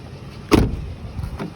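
Power window motor on a 2005 Ford F-150 SuperCrew Lariat pickup, a short whirring run that starts abruptly and fades, followed by a fainter second burst, heard close up inside a quiet cab.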